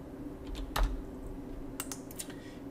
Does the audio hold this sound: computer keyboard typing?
yes